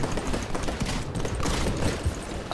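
Sustained rapid gunfire from a Hammond weapon in a first-person shooter game with Titans, dense continuous bursts filling the whole stretch at steady loudness with no talk.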